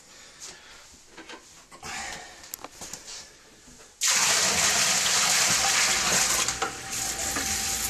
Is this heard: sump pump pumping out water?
yes